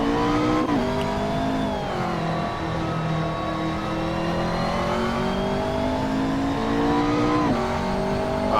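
A race car engine in Assetto Corsa drones steadily at high revs, its pitch sagging and climbing with brief dips around gear changes, loud and continuous with no voices.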